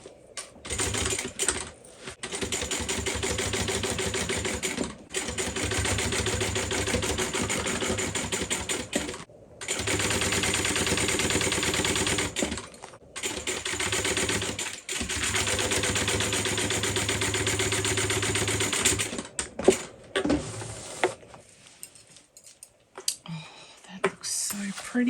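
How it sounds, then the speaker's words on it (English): A sewing machine top stitches through the many layers of a Coupeville tote bag, running in several long, steady bursts separated by short pauses before trailing off into quieter handling near the end. "So my seam allowance is all pointing up, and we're top stitching."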